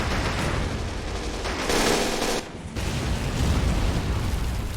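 Su-85 tank with an 85mm gun firing and hitting targets in Men of War: Assault Squad, set amid a dense wall of loud battle noise with booming blasts and continuous crackling gunfire throughout.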